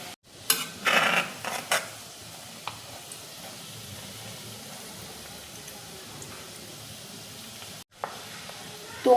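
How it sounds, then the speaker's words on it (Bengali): Almonds dropped into hot oil in a wok set off bursts of sizzling and hissing, with a few louder crackles near the start, then a quieter steady fry and a brief clatter of utensils. "এবার বাদামগুলো আমি এক এক করে তেলের মধ্যে ছেড়ে দেবো।"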